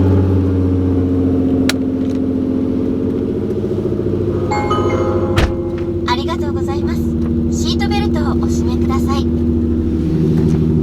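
A car drives along back roads, its steady engine rumble and road noise filling the cabin throughout, with brief rattles and music-like tones over the constant drone.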